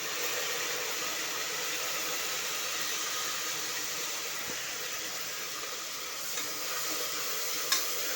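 Green chili, mint and coriander frying for biryani, a steady broadband sizzle filling the pan throughout, with a faint stir or scrape near the end and no talking.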